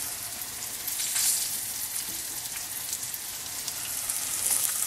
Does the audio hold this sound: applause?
no